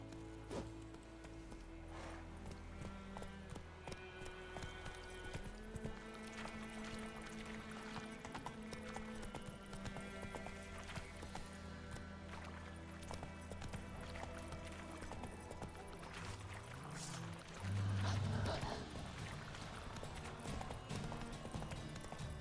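Horse hooves galloping in The Witcher 3, a quick steady clip-clop rhythm running the whole way under game music, with a short louder burst near the end.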